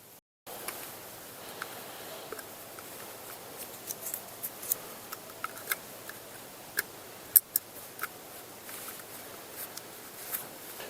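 Small plastic clicks and snaps while an SD card and batteries go into a 20MP mini trail camera, scattered sharp ticks over a quiet room background, close to the microphone with no talking.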